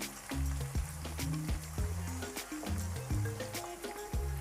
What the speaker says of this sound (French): je commence d'abord avec les oignons